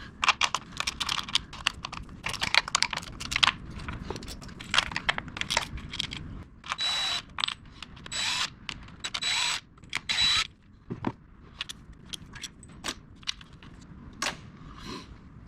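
Retaining nuts and bolts on a Lincoln MKZ Hybrid coil pack area being backed off with a 5/16 deep well socket, giving bursts of close metallic clicking and ratcheting with short pauses, no talk.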